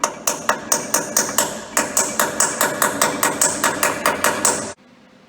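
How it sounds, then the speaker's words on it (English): Steady series of about eighteen sharp metallic hammer strikes on a short center punch, marking bolt holes in a steel trailer repair, struck close and evenly at a brisk rhythm before stopping abruptly. "So I'm just going to take this short center punch, and I'm gonna have to kind of angle it"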